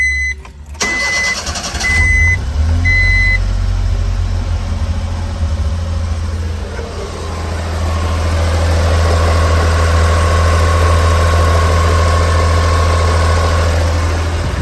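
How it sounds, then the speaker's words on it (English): The small engine of a Honda Street kei van with 136,000 km cranks and catches on a cold start, then settles into a steady, loud idle with a low rumble that continues to the end. "let's start it right now. Cold start at that."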